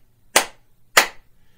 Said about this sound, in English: and then we'll clap three times.